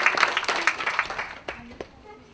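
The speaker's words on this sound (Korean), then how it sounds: "축하의 박수 부탁합니다" Audience clapping at an ocarina competition award ceremony, a brisk patter of many hands fading out over about two seconds into a few scattered claps.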